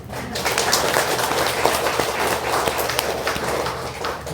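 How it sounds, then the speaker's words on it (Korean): A hall audience at a Buddhist dharma talk breaks into dense, steady clapping that holds evenly for several seconds, with no voice over it. "이해 가면 박수 한번 쳐줘봐."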